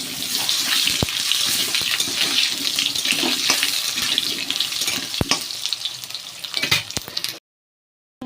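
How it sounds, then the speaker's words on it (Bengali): Potatoes deep-frying in hot oil after fish, a dense loud hiss and crackle with scattered sharp pops, ending in sudden silence near the close. "আলুগুলো দিয়ে ভালো করে ছাকা তেলে আলুগুলো ভেজে নেব"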